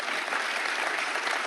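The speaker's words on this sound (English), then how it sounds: "give a round of applause to our panelists here" A crowd applauds the panelists at the close of a QuakeCon 2012 panel, steady dense clapping filling the whole short stretch, fairly soft and without voices.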